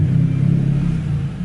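A car with a turbocharged 3.8 engine swapped to a manual gearbox drives along, giving a brief, steady low engine drone and rumble close by.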